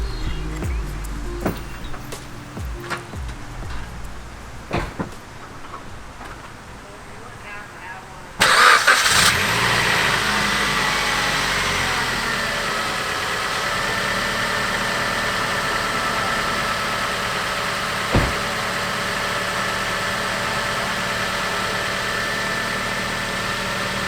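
A Suzuki SX4 engine, just fitted with a new drive belt, cranks and catches after a quiet stretch of ambient noise. It then settles into a steady, smooth idle that fills the rest of the recording, with one brief bump partway through.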